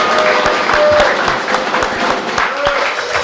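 A pub crowd breaks into applause at a live music night, loud, dense clapping close by with a few scattered sharper claps, steady throughout.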